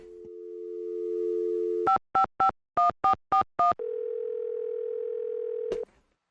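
A car phone in the Nancy Drew video game Secret of the Scarlet Hand: a steady dial tone, then a quick run of seven dialing beeps, then a sustained ringing tone cut off by a short click.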